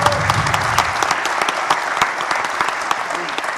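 An audience at a political conference gathering breaks into sustained applause, dense crowd clapping with scattered sharper claps, steady and fairly loud from start to finish.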